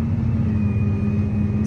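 Farm machinery chops hay for silage and blows it into a wagon out in the field, a loud, steady engine drone with a constant low rumble and no break or voices.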